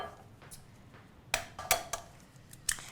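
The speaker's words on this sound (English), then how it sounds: "3 eggs, and we're going to break this into our jug" Three eggs are cracked into a jug for scone batter, with a handful of sharp, close taps and clinks against the rim and short quiet gaps between them.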